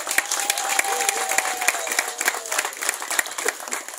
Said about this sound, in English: she deserves a very big round of applause